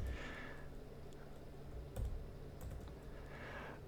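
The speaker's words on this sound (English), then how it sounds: "Got to type that correctly." Python code being typed on a computer keyboard: quiet, irregular clicks of keystrokes with short pauses between bursts, close by and alone.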